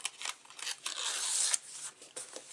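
Backing being pulled off adhesive paper for a Graphic 45 mini album, a close, soft crackling rasp that swells into a longer continuous peel, then trails off into a few light scratchy bursts.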